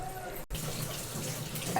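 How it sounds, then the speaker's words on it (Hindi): Hot water pours into a pot of cooking dry peas, a soft, steady splashing stream close by that pauses briefly before continuing, with no talking. "उसके बाद गर्म पानी इसमें डालेंगे।"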